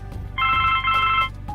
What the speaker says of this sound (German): Boah, dieses Telefon, ne?